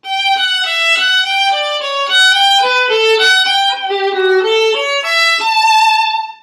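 A lively bourree phrase played on a single melodic instrument, clear notes stepping up and down at a brisk pace, swelling a little toward the end.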